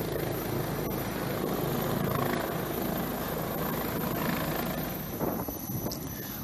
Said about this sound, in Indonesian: Helikopter yang digunakan setelah dikonfirmasi adalah